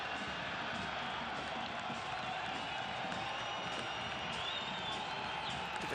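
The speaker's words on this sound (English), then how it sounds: "Look at the crowd getting all pumped up." Home supporters of Phoenix Rising FC roar steadily throughout a soccer playoff match against Portland Timbers 2, a dense, continuous wall of crowd noise with no clear breaks.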